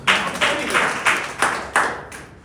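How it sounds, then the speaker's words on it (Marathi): Audience clapping at a Marathi business plan seminar, six distinct rhythmic bursts of claps in a row, fairly close and moderately loud, with no speech over them. "एक जोरदार टाळ्या."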